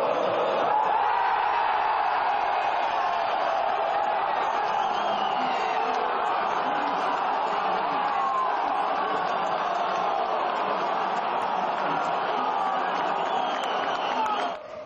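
A large football stadium crowd cheers after the final whistle of a São Paulo match, a sustained dense roar of voices that stays loud and even before cutting off at the end.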